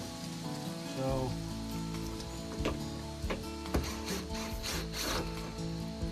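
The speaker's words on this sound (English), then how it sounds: "let's go ahead and get these screws in" A power driver whirs as screws, including 2-inch screws, are driven in on an off-grid homestead in Maine, with a steady motor hum broken by sharp ratcheting clicks and knocks, close and alone without talk.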